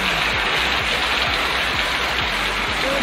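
Heavy rain falling behind a house, a dense, constant hiss of downpour with close drips and splashes on surfaces, loud and steady throughout, no talking.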